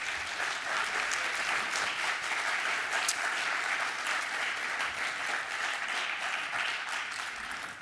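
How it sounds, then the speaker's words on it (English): An audience at a high school dedication ceremony applauds, a dense, steady wash of many hands clapping that holds evenly for several seconds. "So can we give him a round of applause, please?"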